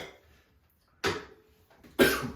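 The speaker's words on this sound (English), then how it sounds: "Got a little cough." Two sharp, harsh coughs about a second apart, close and loud, following a pull of smoke, with quiet room tone between them.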